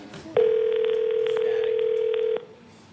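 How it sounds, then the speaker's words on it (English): A phone rings out on a live call as a single steady electronic tone lasting about two seconds, loud and close, with faint background noise and no talking over it. "It's 3 rings."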